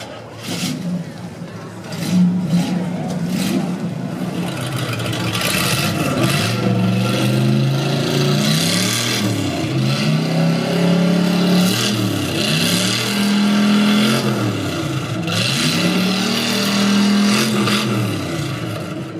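A 1940 Oldsmobile engine at a car show rap contest revs repeatedly, its exhaust rising and falling in loud, swooping bursts close by, with crowd noise and occasional voices underneath.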